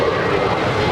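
A brief, loud burst of steady engine roar from an 8-year-old JetBlue Airbus A321 jet airliner bound for Boston at Los Angeles International Airport, heard close and unbroken.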